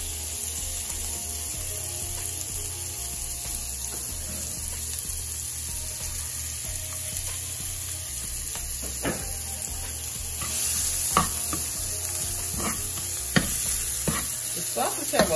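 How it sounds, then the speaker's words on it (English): Onions sautéing in a pot of oil rendered from sausage give a steady, close hiss of frying, with occasional stirring scrapes and clicks growing busier toward the end, with no speech. "I'm gonna just start sauteing my onions now"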